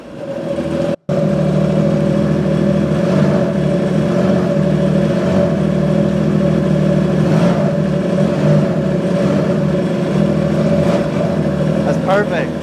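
Yamaha Superjet TR-1 jet ski engine holding a steady mid-pitched drone, briefly cut out near the start, then running on loudly with small rises in revs as the throttle is tested at different steering angles.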